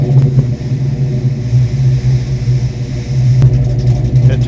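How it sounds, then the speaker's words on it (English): A Fox Body Mustang fitted with original Flowmaster 40 series mufflers idles with a deep, loping rumble, steady and fairly loud throughout. "I went back and reinstalled the original 40s just so you guys can hear them in hi-fi stereo"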